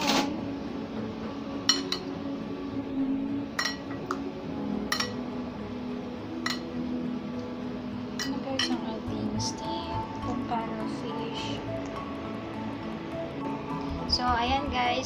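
A serving spoon clinks against a dish of steamed pampano fish in a series of sharp, bright taps spread across the scene, with a person talking throughout over the kitchen clatter.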